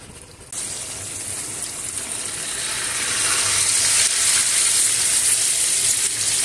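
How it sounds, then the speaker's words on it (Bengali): Hilsa fish sizzling and frying in spiced oil in a pan, a steady loud hiss that swells after a few seconds, with no talk over it. "ইলিশ মাছগুলো আমি ভালো করে মশলার সঙ্গে কষিয়ে নেব।"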